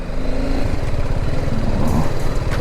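A BMW 310 GS and a KTM 390 Adventure riding off-road on a Rajasthan road trip, engines droning steadily and loudly up close with a rough, throbbing rumble and no talking.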